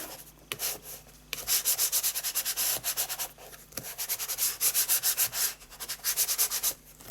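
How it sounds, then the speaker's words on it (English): A stuck piece of card is rubbed firmly on its back in rapid repeated back-and-forth strokes. The close, papery scuffing comes in bursts with short pauses between them, and no one speaks. "And rub the back again, make sure that's good and stuck."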